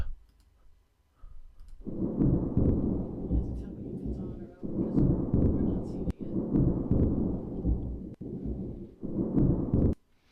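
A thunder sound effect marks a quiz show's lightning round: loud, rolling rumbles that swell in several long bursts with brief dips between them, heard alone without talk.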